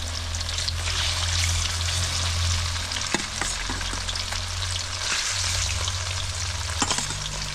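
Tuna fish pieces frying in hot mustard oil, a steady close crackling sizzle throughout with a couple of sharp spatters and faint clinks, no voices.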